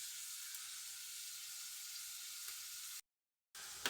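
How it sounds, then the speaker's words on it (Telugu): Coriander seeds, cumin, crushed onion and salt sizzling in hot oil in a pan, a steady close hiss that cuts out for a moment near the end and then resumes. "ధనియాలు, జీలకర్ర, ఉల్లిపాయ దంచింది వేస్తున్నాను."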